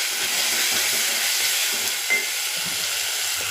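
Onion with ginger and garlic frying in a pan while being mixed, a steady dense sizzle and hiss throughout, loud and close, with one faint brief tick partway through.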